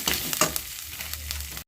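Kashmiri chili powder hitting hot oil in a pan for rajma curry, giving a brief bright sizzle with a few stirring scrapes that fades out after about a second and a half.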